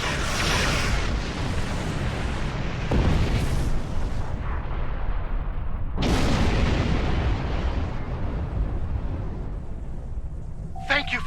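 Torpedo launches and explosions from a starship battle in Star Trek Online, continuous loud rumbling with booming blasts at intervals, while a voice talks over the combat.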